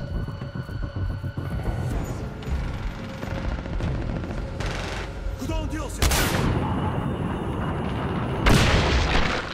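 Seeker rifle fire in the shooter game Singularity: repeated loud gunshots and booming impacts over a rumbling game background, with a sharp blast near the six-second mark and another heavy burst near the end.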